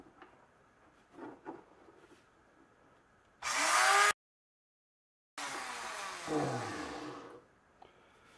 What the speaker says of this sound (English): Now I'm going to cut these pins off with the Dremel tool.